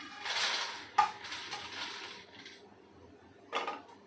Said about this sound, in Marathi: हाताने थोडे थोडे करून भाजून घेऊया आपण मखाने